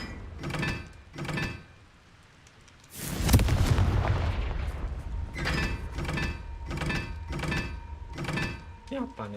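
Spell blasts from Bombarda and Confringo in the video game Hogwarts Legacy: a loud booming burst of explosion noise bursts out mid-clip, with rhythmic game sounds and voices before and after.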